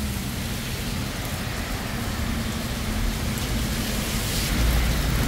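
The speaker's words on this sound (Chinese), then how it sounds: "下着大雨啊" Heavy rain pours down outdoors in Neihu District, Taipei. It makes a dense, continuous hiss with a low rumble beneath, swelling slightly toward the end, and no voices.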